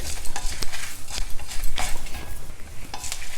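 Dry red chillies and curry leaves fry in hot oil in a pan over a low flame, a steady crackling sizzle broken by sharp pops and the clatter of a spoon stirring against the metal.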